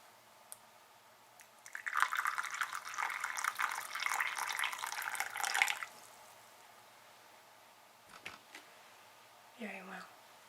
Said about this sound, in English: And now we're gonna pour some water over that too.